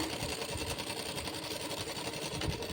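A sewing machine runs continuously and fairly loud, stitching separately cut blouse belt pieces of cloth together, a fast steady mechanical whir with no pause and no voice over it.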